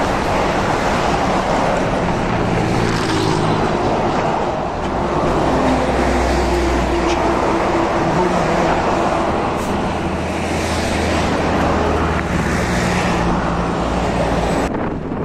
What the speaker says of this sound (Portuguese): Uma rodovia nesse ponto muito intensa, muitos veículos, muitos caminhões.